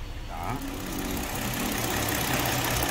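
A Kia Opirus car engine idles evenly at close range with a steady, low rumble and a constant mechanical drone throughout.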